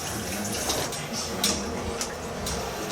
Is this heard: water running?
yes